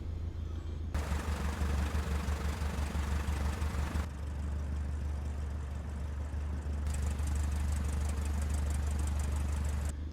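A simulated light aircraft engine idles at 1200 RPM with the parking brake set, a steady loud drone with a low rumbling hum that swells and thins in sections, no talk over it.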